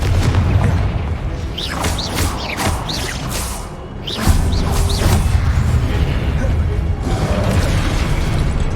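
Confringo spell blasts in Hogwarts Legacy gameplay, a run of booming explosive bursts with whooshing casts and crashing debris, building to a loud sustained rumble toward the end.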